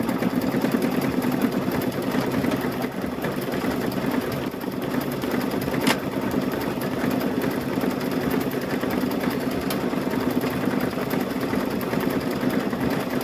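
A sewing machine stitching through rope runs in a continuous, even mechanical whir, close and steady throughout, with a couple of brief clicks along the way.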